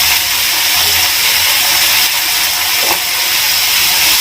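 Onions sizzle steadily in a hot pan with turmeric, a continuous broadband hiss of frying that stays loud and even throughout, with a faint stir or scrape near the end.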